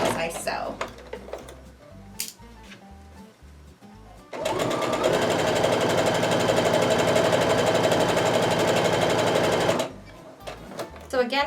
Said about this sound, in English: And I'm just sewing, again, making sure that that straight of grain piece is on the bottom.